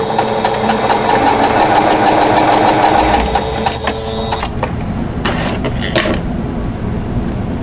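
A sewing machine runs steadily while stitching quilt block seams, a fast close whirring hum with rhythmic needle clatter, easing off and briefly stopping and restarting near the end, with no voices.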